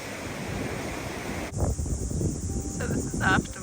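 Wind gusting steadily at a waterfall viewpoint, a loud broadband rush buffeting the microphone and strengthening partway through, with a voice briefly audible underneath.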